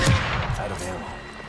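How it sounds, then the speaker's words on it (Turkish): An explosion in The Evil Within 2 video game lands as a brief, loud, low boom right at the start, then rumbles away quickly. "Patlama."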